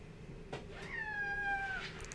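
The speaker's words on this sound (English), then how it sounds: "And the cat said, meow" A single drawn-out cat meow, clear and fairly close, rising then holding a steady tone before trailing off, with a faint thump just before it.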